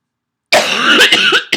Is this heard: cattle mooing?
no